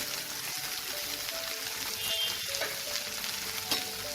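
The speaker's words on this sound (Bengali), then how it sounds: "দিয়ে এটাকে আমি গ্যাসের ফ্লেমটা একদম সিম করে দিয়ে এটাকে আমি কিছুক্ষণ নাড়াচাড়া করব।" Coriander, cumin and Kashmiri red chilli powder sizzling in a pan over a low gas flame for a tangra fish curry, a steady, fairly quiet frying hiss with soft stirring and occasional light scrapes.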